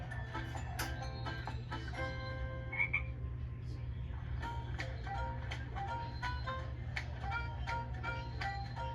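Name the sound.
frogs croaking in a frog bog, cartoon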